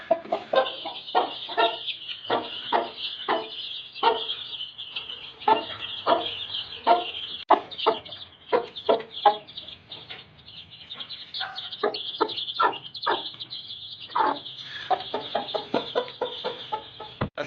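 A hen shut in a room with her newly hatched chicks clucks in a steady, repeated rhythm. The chicks' continuous high peeping runs beneath, close and moderately loud.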